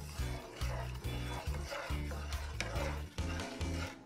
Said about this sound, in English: so you want to keep on stirring this thing